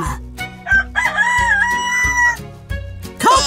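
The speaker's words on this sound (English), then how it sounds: "When roosters crow, they need to be somewhere everyone can hear them." A cartoon rooster on a Thomas & Friends farm gives a loud, close, drawn-out crow over a bouncy, rhythmic background tune.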